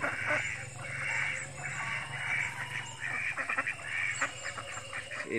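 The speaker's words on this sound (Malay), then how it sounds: "Itik kampung berada di sungai." Village ducks on a river in the early morning, quacking off and on at moderate distance over a steady low background hum, with brief calls spread across the clip.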